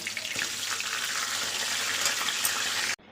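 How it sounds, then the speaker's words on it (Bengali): A fish head fries in hot oil in a wok, a loud steady sizzle and crackle that cuts off abruptly near the end. "মাছের মাথাটাও ভালো করে আমার ভাজা হয়ে গেছে"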